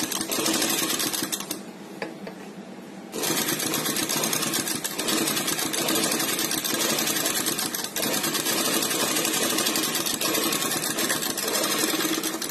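A sewing machine runs steadily while stitching a straight seam through fabric, its loud, dense motor whir continuous apart from a brief dip near the start, with no talking.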